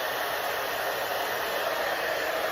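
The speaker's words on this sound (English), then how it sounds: "We're now gonna take our blow dryer" A blow dryer running on low fan and low heat while styling a modern shag haircut, giving a steady, even airy whoosh that stays constant throughout with no voices.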